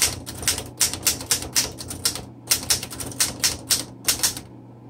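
Typing on a 1929 Royal 10 vintage manual typewriter: a brisk run of sharp, close mechanical key strikes in uneven bursts, each clack crisp and loud, with brief pauses between groups of keystrokes.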